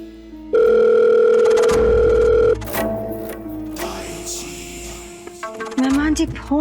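A telephone rings on and on with no answer, a steady electronic tone breaking off into other noise and shifting tones.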